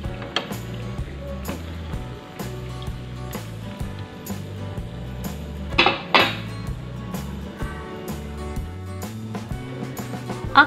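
Potato cheese balls lifted from frying and set onto a plate or bowl, with repeated light clinks and taps of utensils on dishes, a couple of louder scraping clatters midway, and faint sizzling underneath.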